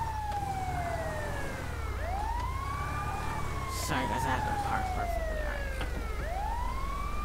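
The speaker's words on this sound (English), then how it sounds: "Why is the sirens all on? Oh, that's their sirens." Police sirens in the video game GTA V with the LSPDFR mod wail in repeating rising and falling sweeps over a steady engine hum, while someone speaks briefly partway through.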